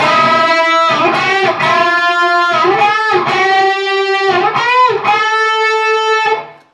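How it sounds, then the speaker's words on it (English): Distorted electric guitar plays a phrase of bent notes rising into unison on the 2nd string, sustained and loud, with short gaps between bends before ringing out. "So the unison bends will sound like this."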